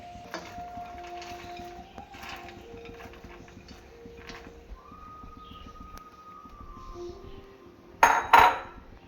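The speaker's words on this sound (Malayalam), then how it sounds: "ഇതിലേക്ക് ചവ്വരി ഇട്ട് ഇളക്കി കൊടുക്കണം" Sago being stirred into Onam payasam in a pot: soft, steady scraping for most of the stretch, then a sharp, loud metallic clatter of a spoon against the vessel near the end.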